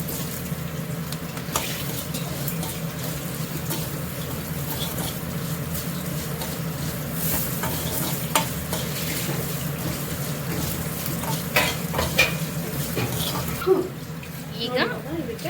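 Semolina for upma being dry-fried and stirred in a pan, a steady rough hiss with scattered scraping stirs and light clicks, close and fairly loud, with faint voices in the background.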